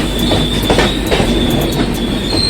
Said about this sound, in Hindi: ट्रेन का एंड आ गया और अब हम इस ट्रेन को दोबारा पीछे छोड़ेंगे